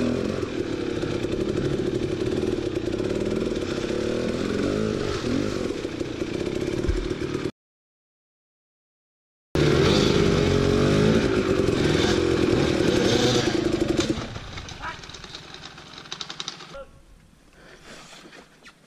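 2017 KTM 250XC dirt bike engine running close by, a loud continuous buzzing drone broken by a brief silence, then dropping to a quieter idle before fading out.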